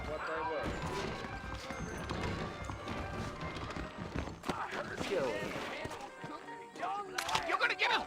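Horse hooves clip-clop at a steady running pace in the western video game Red Dead Redemption, mixed with game ambience and voices talking over them.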